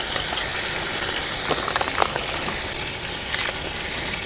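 Prawns fry in a pan with turmeric added, giving a loud, continuous, crackling sizzle close up, with scattered sharp pops and spits of oil throughout and no voices.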